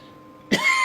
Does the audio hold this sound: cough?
yes